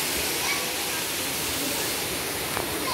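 Busay Falls in Tudela, Camotes, Cebu, Philippines, pouring as a steady broadband rush of falling water heard close and loud, constant throughout.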